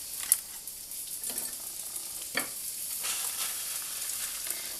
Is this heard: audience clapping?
no